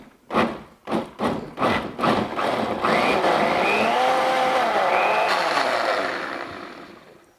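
A blender pulses red chile sauce in several short, rhythmic bursts, then runs continuously with a rising whir before winding down, loud and close.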